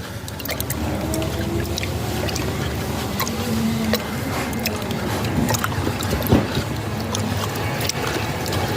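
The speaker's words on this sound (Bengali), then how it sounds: "এখন এই পানিটাকে আমি ভালোভাবে মিশিয়ে নেব" Water being stirred and sloshed in a container while deworming medicine for native chickens is mixed in, a continuous close splashing swirl with a small knock partway through.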